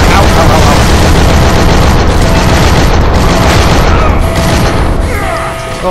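Incoming enemy fire in the video game Shank 2 sends loud, dense explosions rumbling one into another, a sustained barrage of booms that fades slightly near the end.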